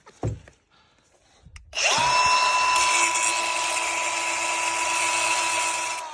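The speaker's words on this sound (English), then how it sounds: "we need to grind down this stud so we can get this nut off" An angle grinder grinds down a stud on a Jeep Renegade tie rod. A few clanks come first, then the tool spins up into a loud, steady high-pitched whine and rasp of metal grinding that runs to the end.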